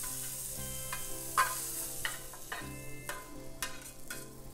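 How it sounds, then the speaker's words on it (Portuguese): A spoon stirs shrimp risotto in a hot pan, steady sizzling and bubbling under soft scraping and a few light knocks against the pan, close and moderately loud, with no speech. "Meu risoto aqui mexendo"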